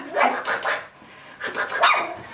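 A small puppy barks in short yappy bursts, two clusters of quick barks with a pause between, heard from another room indoors.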